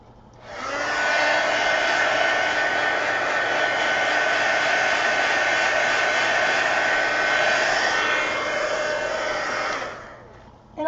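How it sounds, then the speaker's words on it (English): A hair dryer drying a watercolor painting roars steadily and loudly for about ten seconds, switching on and off cleanly with no other sounds. "All right, now I'm going to dry this."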